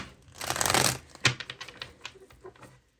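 Oracle cards riffled and shuffled close up, a dense papery burst followed by a string of quick light card taps and flicks that fade out.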